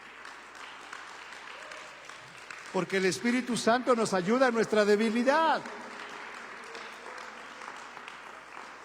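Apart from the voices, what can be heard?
church congregation applauding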